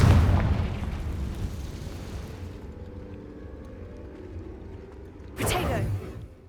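A Confringo fire spell blast in Hogwarts Legacy erupts as a loud rumbling boom up front, fades into a low sustained roar, then a second sharp burst lands near the end.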